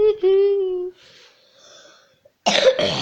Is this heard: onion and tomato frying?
no